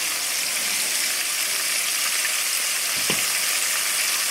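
Wild turkey pieces frying in hot oil, a continuous close sizzle with a brief clink of a fork near the end.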